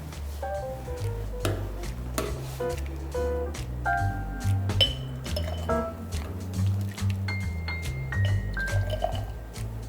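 Hot plum paste with lovage is spooned into glass jars, making light glassy clinks and wet, sticky squishes at close range over steady tonal background music.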